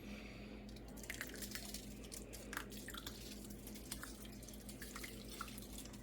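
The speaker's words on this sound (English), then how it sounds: "And then we're going to pour it right over the top." Liquid mixture poured over a chicken and rice bake in a pan, heard as soft close drips and splashes with a few louder spatters over a faint steady hum.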